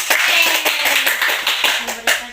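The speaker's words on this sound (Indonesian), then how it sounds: "Kita berikan aplaus untuk kelompok Dian." A classroom of primary-school pupils claps in a short burst of applause for a student group, scattered hand claps close and lively, with a voice speaking briefly over them.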